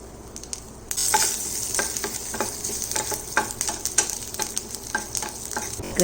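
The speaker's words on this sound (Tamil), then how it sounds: "கடுகு நல்லா வெடிக்க ஆரம்பிச்சிருச்சுங்க" Mustard seeds, spices and crushed garlic fry in hot oil while tempering a spinach and mango dhal, a loud close sizzle dotted with sharp irregular pops and crackles as the seeds burst.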